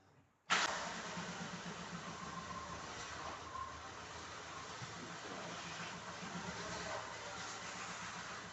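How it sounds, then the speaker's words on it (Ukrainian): Daewoo Gentra car engine cranks and catches with a sudden loud burst, then settles into a steady, even idle that runs for several seconds with no talking. "Зараз заводимо, повному, робимо повний оберт."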